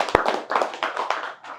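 A small group claps for a course participant at a PCB repair training institute, giving a short burst of close, loud hand claps with one sharp slap near the start followed by a patter of scattered claps.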